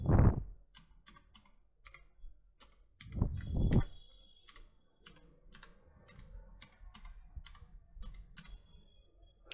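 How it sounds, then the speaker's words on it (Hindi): Keys on a computer keyboard tap out an email address in quick, irregular bursts of crisp clicks, close and fairly quiet, with a short pause and a soft thump partway through. "यहाँ पे आपका ईमेल एड्रेस टाइप कर देना है"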